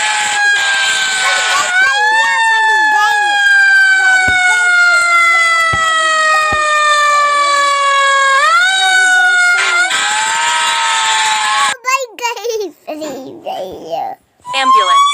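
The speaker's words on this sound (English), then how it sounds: "Fire truck." A fire truck siren wails loudly and steadily, its pitch sweeping slowly, then breaks off into scattered voices and noise near the end.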